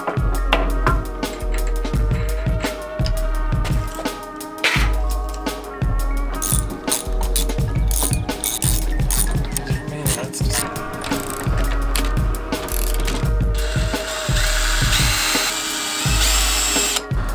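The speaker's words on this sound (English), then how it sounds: "Technically, you don't have to pre-drill for self-tapping screws, but it does make life a lot easier if you do." A power drill pre-drills holes for self-tapping screws while a fifth wheel hitch is installed in a short-bed truck, loud whining bursts that start and stop repeatedly, with background music running underneath.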